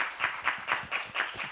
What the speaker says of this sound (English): why don't you give an applause?